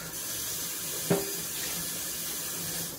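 A pot of water boiling with pumpkin, conch and carrot for Jamaican-style conch soup gives a constant close hiss and rush, with one brief clink partway through and no voices.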